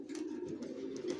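Racer pigeons in a loft, Johnson and Long lines kept for breeding, give a steady low cooing that runs without a break through the short stretch, close by and moderately loud.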